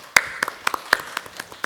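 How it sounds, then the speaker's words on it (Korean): Scattered applause from a small audience at a policy forum, a handful of sharp separate claps spaced irregularly rather than a full ovation, close and fairly quiet. "큰 박수 부탁드리겠습니다"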